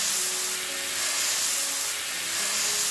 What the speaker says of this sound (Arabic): في طاسة سخنة على نار عالية هنحط شوية زيت ونبتدي نحط الفراخ